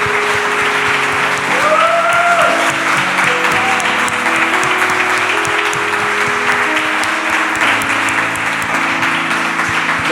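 Congregation in a church service applauding strongly and steadily for about ten seconds, a dense wash of clapping with sung or held tones and some voices underneath.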